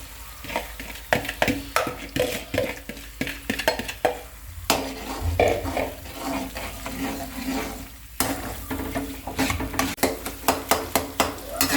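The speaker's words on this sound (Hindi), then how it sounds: "अंडे भूनते हुए जी इस तरह चमचा चलाते रहना है" A spoon scrapes and clatters rhythmically against the pan as eggs fry and are stirred into cooked masala for anda ghotala, with a soft sizzle underneath throughout.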